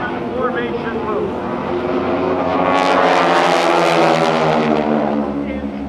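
A vintage propeller aerobatic airplane, heavy on the controls, flies a diamond-formation loop with the Aeroshell Aerobatic Team at the 2013 Dayton airshow. Its loud, steady engine drone swells midway and runs beneath continuous public-address commentary.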